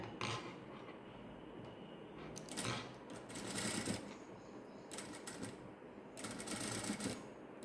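A sewing machine stitches slowly around buttons on a hand design, giving soft bursts of rapid mechanical ticking that start and stop several times, fairly close and quiet with no talk.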